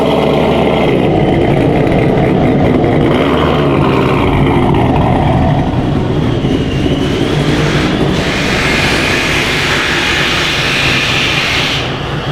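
Loud, steady engine roar from a Procharger-supercharged Chevrolet C7 Corvette, dense broadband rumble with a rising whine toward the end, continuous and close with no talking.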